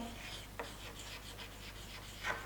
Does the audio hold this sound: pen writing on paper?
yes